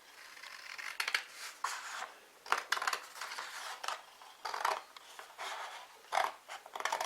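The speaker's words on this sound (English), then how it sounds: "cut that piece off square." Scissors cut cardstock for a handmade tealight candle card, a string of crisp, close snips and slicing strokes in uneven bursts, with no talking.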